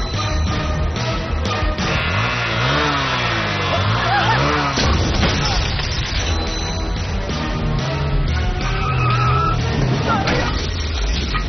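In a film scene a container truck swerves at people, with engine roar, skidding tyres and crash-like bursts under constant narration and dramatic music.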